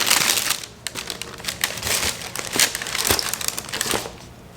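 Tissue paper crinkling and rustling as a sneaker box is unpacked, a close, continuous run of crisp crackles and rustles with no talk over it.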